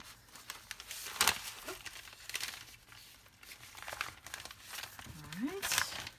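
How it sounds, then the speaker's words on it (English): A sticker is peeled off a pen box during an unboxing: close crinkling and tearing of paper and plastic in uneven bursts, with a sharp rip near the start and another toward the end, under a person's speech. "So take that sticker off."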